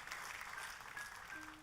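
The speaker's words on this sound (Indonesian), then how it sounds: "Tepuk tangannya yang paling meriah buat Tuhan kita." A church congregation claps together in steady, dense applause, a continuous wash of many hands at moderate distance with no speech over it.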